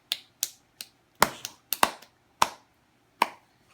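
Children clap in a classroom, about ten sharp, separate claps spaced irregularly over a few seconds, close and fairly loud, with quiet gaps between them.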